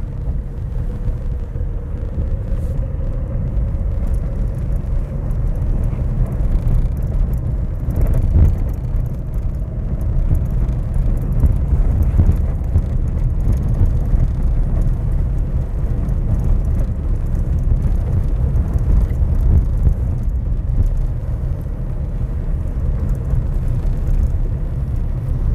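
Car driving along a rough gravel road, heavy continuous low rumble and road noise from inside the cabin, loud and unbroken throughout.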